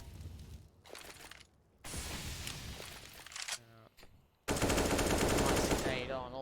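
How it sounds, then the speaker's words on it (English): Rapid automatic gunfire from a Counter-Strike match, players blind-firing through smoke toward ramp; bursts of shots come in loud clusters, with a sustained heavy volley near the end, mixed with commentary talk. "Players blind firing through that smoke back out towards ramp"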